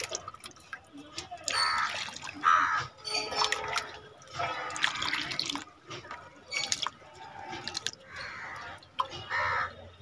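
Water is poured onto the base of a sapodilla plant in a pot, trickling and splashing in uneven bursts while a person talks and a crow calls faintly.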